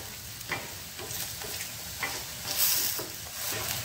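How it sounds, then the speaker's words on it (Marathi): Thalipeeth, a mixed-flour coriander flatbread, frying in hot oil in a pan, with a steady sizzle broken by sharp spattering pops and a brief louder burst of crackling oil midway. "बघा तेल उडालं, बहुत जपून काम करावं लागतं."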